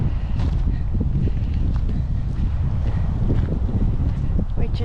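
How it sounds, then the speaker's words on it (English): Steady gusty wind buffets the microphone at a Killarney canoe campsite in autumn, a constant rough low rumble with no pauses. "it's kind of windy"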